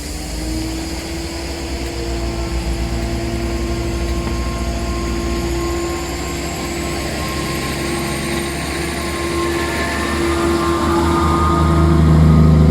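A train pulls out of a station platform on the Taunton to Bristol line, a steady loud engine drone with a sustained tonal hum and rising whine, building gradually as it departs, no talking.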